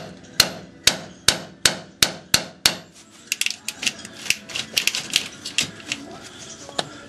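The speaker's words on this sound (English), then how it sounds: "Get yourself a pry bar, hammer it in there like that." A hammer strikes a pry bar wedged into the steering coupler of a 1998 Dodge Dakota 4x4, seven evenly spaced sharp metallic blows followed by a quicker, irregular flurry of lighter taps, close and loud.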